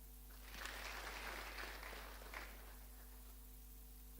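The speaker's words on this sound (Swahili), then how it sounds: "Pigieni makofi." A church congregation at a Kikuyu service applauds the school fundraising chair: a soft, distant wash of clapping swells and fades over several seconds beneath a steady low electrical hum.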